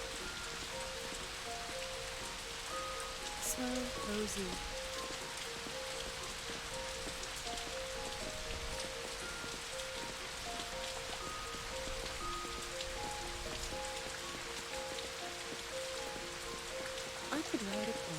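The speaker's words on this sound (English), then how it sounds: "I want to hear the raindrops falling on my door." Rain falls steadily on a door in the video game Know by Heart, a dense soft patter throughout with faint musical tones underneath and a brief murmured voice.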